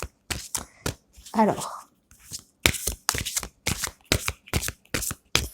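Tarot oracle cards are shuffled in quick riffling bursts, a crisp rhythmic flutter repeating close up, with a brief spoken word at the start.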